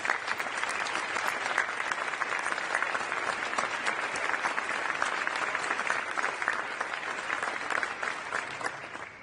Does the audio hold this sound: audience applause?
yes